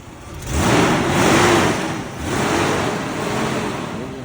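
Car engine running at a police towing auction, a broad rushing drone that swells twice, loud and close, with no talking over it.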